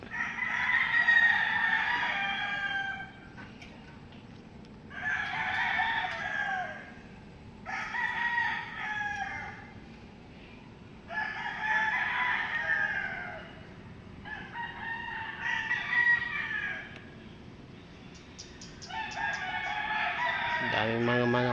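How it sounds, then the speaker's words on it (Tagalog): Roosters at a cockfighting farm crow again and again, six loud overlapping calls spaced a few seconds apart, with quieter clucking and a steady outdoor hum between them. "Daming mga manok dun, oh."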